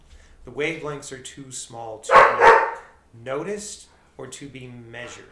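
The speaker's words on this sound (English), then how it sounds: "That's my dog showing his enthusiasm." A dog barks in a sharp burst of two loud, close woofs in the middle of a man's steady spoken explanation, his voice continuing before and after.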